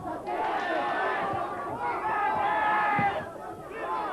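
A kickboxing crowd roars and shouts in a steady, loud wash of voices that dips briefly near the end, with a voice rising over the noise.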